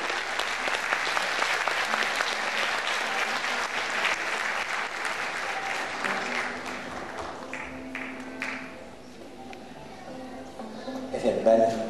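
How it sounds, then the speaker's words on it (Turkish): Sustained audience applause at a Turkish classical music choir concert for a music teacher, a steady wash of clapping that gradually thins and fades, with a voice speaking near the end. "Alkışlarınız ikinci müzik öğretmenimiz için."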